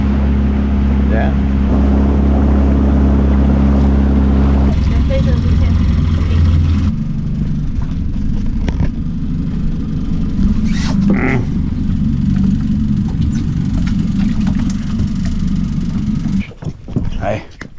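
Tour boat engine droning steadily on the water, a loud continuous low rumble that drops in level partway through, with wind and scattered knocks and bumps over it.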